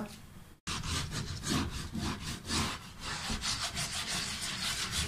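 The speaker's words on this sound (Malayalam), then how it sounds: "ഇനി നമുക്ക് ചെറുനാരങ്ങ വെച്ചിട്ട് ഇതൊന്ന് ഉരച്ചു കൊടുക്കാം" A wooden cutting board is scrubbed with a lemon in loud, rhythmic back-and-forth rubbing strokes. There is a brief pause near the start, then continuous close scraping.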